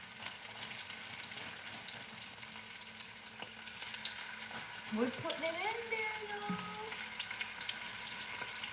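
Food frying in a skillet pan, a steady sizzle running throughout with stirring and clinking sounds near the middle, under a person talking.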